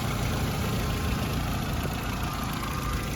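A 1.6-litre petrol engine in an Audi A3 idling with an automatic gearbox, a steady, even mechanical hum with faint ticking that holds constant throughout, close and alone with no talk.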